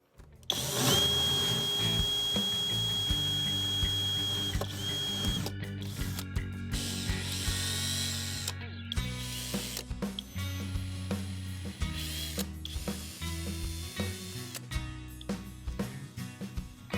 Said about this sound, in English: to drill out the rest of these holes